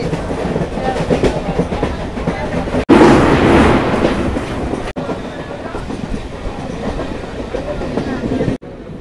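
A local train on the Howrah to Purulia route rolls along with a steady rumbling, rattling carriage noise and clickety-clack of wheels, loud and close from inside, with brief cuts and some speech mixed in.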